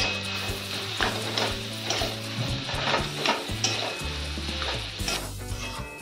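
Mashed boiled potato filling for vada pav being stirred in a pan, with a steady sizzle and repeated scraping strokes of the spoon against the metal, close and continuous, with background music playing underneath.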